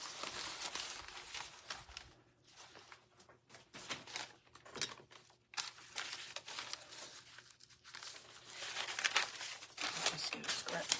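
A scrap of paper is handled and torn off, making bursts of crinkling and ripping at close range with short quiet gaps between them.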